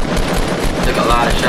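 Rapid bursts of gunfire crackle in Fortnite Battle Royale, a quick string of close shots firing under a player's talking.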